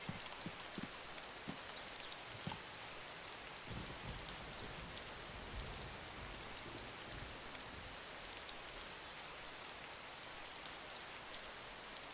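Heavy rain pours steadily in the video game DayZ, a dense even hiss of drops lasting throughout with occasional soft taps, no voices.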